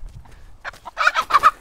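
Chickens clucking and squawking in agitation while being grabbed with a chicken leg crook, a short burst of loud repeated calls rising after a quieter start.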